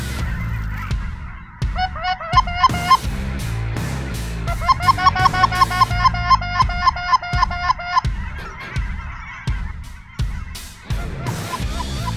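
A large flock of cackling geese on an Oregon goose hunt honks loudly overhead, with many high, yelping calls in rapid overlapping bursts between sharp, sudden louder hits.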